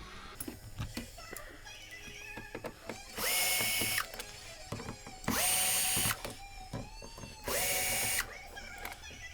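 A power drill or driver removes screws from the door card of a Lotus Elan M100, giving three separate loud whirring bursts of about a second each. Quieter clicks and handling noises of tools and parts fill the gaps between them.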